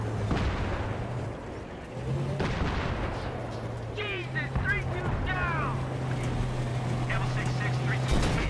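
Tank rumbling along at speed in the video game Battlefield 3, a steady low engine drone with clanks and bursts of gunfire over it, while a player talks throughout.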